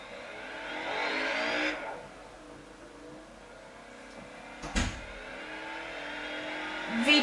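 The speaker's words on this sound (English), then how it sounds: "Listen to the VTEC." A Honda S2000 with a VTEC engine and supercharger revs hard in the Forza Horizon racing game, its pitch climbing steadily for about two seconds before easing off. A brief sharp burst and another rising rev follow later.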